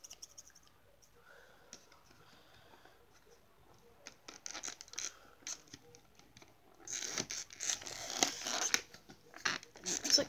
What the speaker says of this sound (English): Let's try using some scissors.